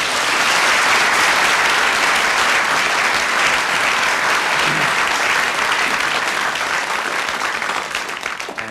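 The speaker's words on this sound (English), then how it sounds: "Delighted that you're applauding now" Television studio audience applauding loudly and continuously, a thick sustained roar of clapping that holds steady before tapering slightly at the end.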